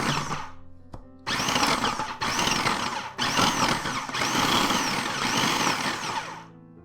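Food processor blending cold butter into flour, loud steady whirring in several bursts separated by short breaks.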